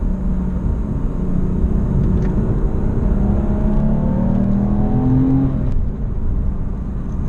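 A Porsche Boxster S with a manual or PDK gearbox accelerates in sport mode, its engine a steady low rumble and whir inside the cabin with rising tones as it pulls, no voices heard.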